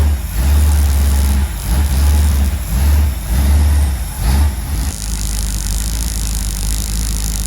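A freshly rebuilt 390 FE car engine idles with a loping, pulsing rumble that smooths into a steady hum partway through.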